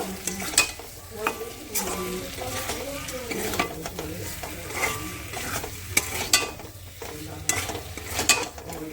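Fried potatoes are stirred with spice paste in a pan, giving a continuous close sizzle with scraping spatula movements and occasional clinks of metal against the pan.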